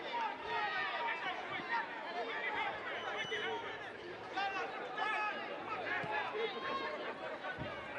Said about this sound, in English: Crowd getting restless.